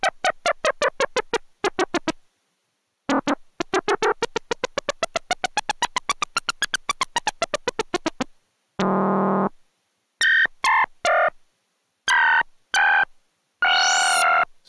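A Gakken SX-150 Mark II analog synthesizer played with its ribbon controller chirps out rapid, clicky pulsed notes in bursts that rise and fall in pitch, then gives way to short buzzy sustained tones with gaps between them, loud and without voices.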